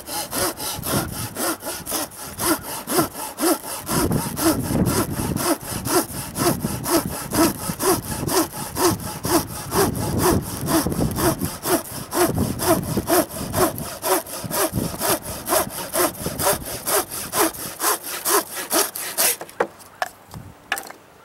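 A Japanese pull saw from Tashiro Hardware cuts through small pieces of scrap wood in fast, even rasping strokes, close and loud, before stopping abruptly near the end.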